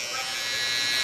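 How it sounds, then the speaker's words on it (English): Electric hair trimmer lining up the neck during a mid taper haircut, a close, steady buzz lasting about a second. "So we take a soft trimmer and line that up so it doesn't cause any irritation or anything like that."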